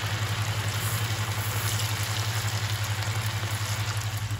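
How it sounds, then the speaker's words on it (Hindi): Cauliflower pieces deep-frying in oil over medium gas, a steady dense sizzle with a low rhythmic hum running underneath throughout. "और उसे अच्छा गोल्डन हम फ्राई करेंगे ताकि वो क्रिस्पी हो जाए"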